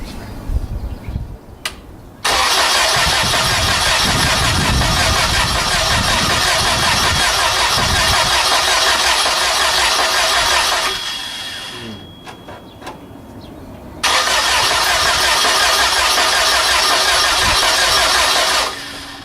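A gaseous-fueled engine on a test run cranks, catches and roars loudly and steadily for about eight seconds, drops away briefly, then starts and runs hard again, with no talking.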